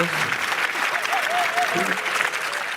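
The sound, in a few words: arena crowd clapping and cheering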